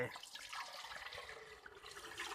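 Homemade sato rice wine pouring from a bucket into a bottle, a continuous close gurgling, splashing stream with a faint voice in the background.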